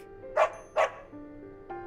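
Skeleton dog in the video game Psychonauts 2 gives two sharp, close barks in quick succession, followed by a short whimpering tone, with no talk.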